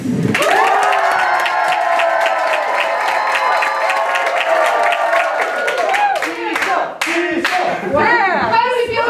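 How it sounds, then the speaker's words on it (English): A studio audience in an outer-space themed show cheers, whoops and claps loudly and continuously for a contestant, the clapping dense and close for most of the stretch before thinning into scattered claps and shouts at the end. "So the more you love the contestant's constellation, the louder you should cheer for them"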